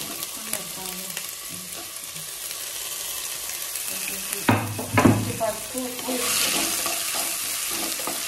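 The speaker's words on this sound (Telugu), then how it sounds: "ఫస్ట్ ఆనియన్ వేస్తున్నాను." Onions frying in a pan for a Rayalaseema-style uggani: a steady close sizzle with stirring scrapes, with a few louder clatters midway and a hiss that swells toward the end, and no talking.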